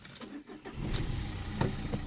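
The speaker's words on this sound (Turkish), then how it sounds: "Siz de bir çalışmasını dinleyin. Anahtarı kontağa takıyoruz bu şekilde." A 2016 Renault Symbol 1.5 dCi 90 hp diesel starts up with a short cranking burst, then settles into a steady close-up idle rumble.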